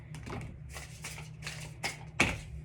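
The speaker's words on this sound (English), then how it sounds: "I'm going to do 2 more shuffles. Okay, 1 last shuffle." Tarot card deck being shuffled by hand, a series of soft riffling and papery shuffles at close range with a sharper snap near the end, over a low steady hum, no talking.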